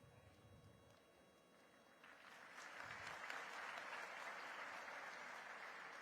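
Applause from a community gathering rises after a couple of seconds and holds steady, welcoming the honourable chief guest, Speaker Shankarbhai Chaudhary; it sounds somewhat distant and faint, with a quieter murmur before it.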